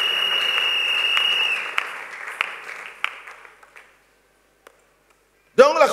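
A church congregation applauds during a Sunday service. The dense clapping lasts a few seconds, thins into scattered claps and fades to near silence, then a voice comes in at the end.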